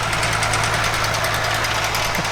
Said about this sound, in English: having a go on a wonderful international tractor